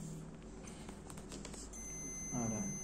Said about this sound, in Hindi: बीप आ रहा है ना।